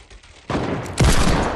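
Hand cannon shots fired in a shooter video game: two loud, close blasts about half a second apart, each followed by a rough sustained rumble, with no talk.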